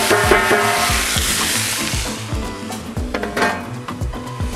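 Onion fries in an oiled pan with a loud, steady sizzle, broken by a few metallic clinks and scrapes of a utensil against the pan.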